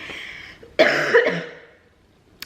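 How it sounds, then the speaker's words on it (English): A single harsh cough, close and fairly loud, trailing off into a breathy fade, followed by quiet. "Also kind of have a little bit of a cough, so if I'm coughing, that's why."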